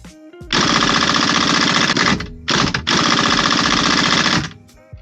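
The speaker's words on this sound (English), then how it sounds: "the impact gun is leaking a little bit of oil" An oil-leaking air impact gun loosens the steering wheel bolt on a 2017-2021 GMC or Chevrolet truck or SUV, giving a loud, close, rattling hammering in one long burst, then a short burst, then another long burst.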